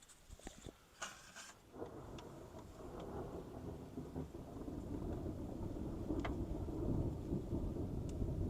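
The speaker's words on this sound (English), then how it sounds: "Ooh, hear that thunder." Deep thunder rumbling at a sawmill, building into a continuous low roll with rain hiss over the whole stretch, a few sharp knocks early on, no talking.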